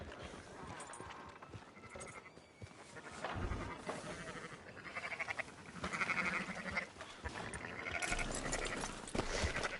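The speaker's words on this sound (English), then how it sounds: "Fine sheep." Sheep bleating from the video game Red Dead Redemption, several separate bleats rising and falling over a few seconds, fairly close, alongside faint shuffling and hoof-like clatter.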